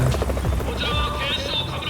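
Police helicopter arriving over a rooftop in the video game Yakuza: Like a Dragon, a steady rotor drone held under continuous talk across the short moment.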